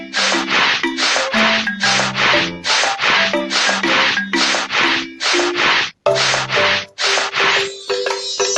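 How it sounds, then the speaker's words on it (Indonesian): A rusty steel frame is being rubbed down with sandpaper in steady back-and-forth strokes, about two per second, loud and close, with a brief pause near the end and no talking. "Rangka baja sedikit berkarat, bersihkan dengan amplas."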